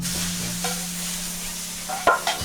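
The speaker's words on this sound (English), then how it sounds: "So now we're going to sear off the Malbech marinated flank" Malbec-marinated flank steak searing in an oiled pan, a steady broad hiss of sizzling fat with a low hum beneath and a couple of sharper spits and pops near the end.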